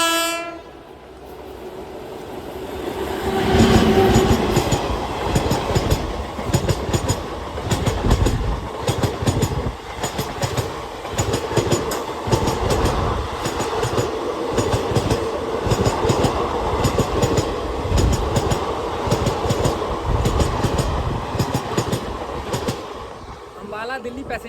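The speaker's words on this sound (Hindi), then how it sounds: "दिल्ली पैसेंजर ट्रेन निकल गई।" A Delhi passenger train rumbles past on the railway with a continuous loud roar and rapid clickety-clack of wheels over rail joints, heard close by for the whole stretch, with a horn sounding early on.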